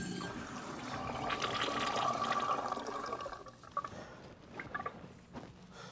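An automatic toilet flushes in a restroom, a steady rushing swirl of water building for a few seconds before draining away into gurgles and scattered drips and clunks.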